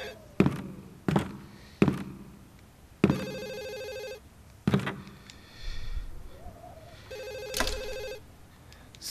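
Home telephone ringing in the Japanese horror video game Ju-On, heard as two long bursts of trilling bell tone between loud thuds and knocks, clear and close with no talk over it.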